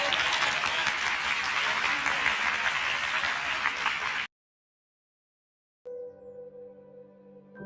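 A church congregation applauds during a sermon: about four seconds of steady, full clapping that cuts off abruptly, followed by silence and then faint tonal sounds.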